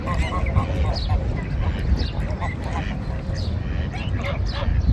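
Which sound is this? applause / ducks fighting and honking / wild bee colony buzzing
ducks fighting and honking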